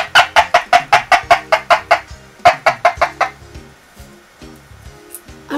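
A homemade noisemaker built from a recycled plastic cup gives a rapid run of loud, scratchy chicken-like clucks, about a dozen evenly spaced squawks, then a few weaker, sparser ones trailing off.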